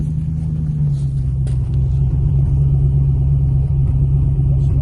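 An idling Lexus LS430 engine rumbles steadily up close after a spark plug change, a low, even drone with a slight uneven putter, with no voices.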